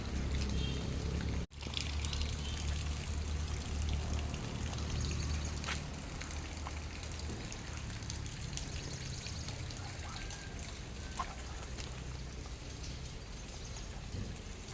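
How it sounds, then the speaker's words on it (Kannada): A soft, steady patter of light rain with dripping water runs throughout, fairly even and calm, with a brief dropout near the start. "ಮೋಡ ಕೂಡ ಇದೆ ಮಳೆ ಕೂಡ ಬರ್ತಾ ಇದೆ"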